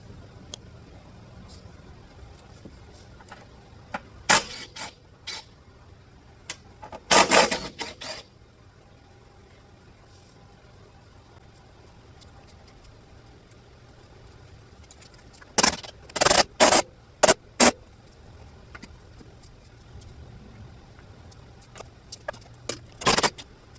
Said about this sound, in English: getting the two strut bolts up top loose